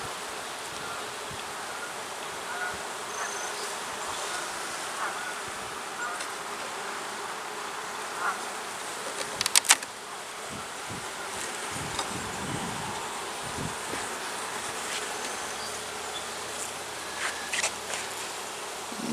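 Honey bees hum around an open hive during a frame inspection, a dense continuous buzz of many insects close by with occasional brief handling clicks and rustles, no speech.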